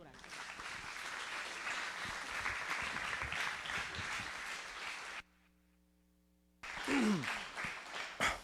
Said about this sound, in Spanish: démosle un muy fuerte aplauso a Humberto Uriel Durán